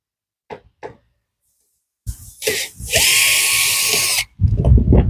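A power screwdriver backs a screw out of a Samsung microwave control board. A few light taps come first, then short bursts and a steady, close, high motor whir for about two seconds. It stops abruptly.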